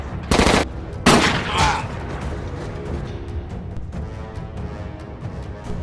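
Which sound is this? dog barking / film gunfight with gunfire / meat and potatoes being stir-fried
film gunfight with gunfire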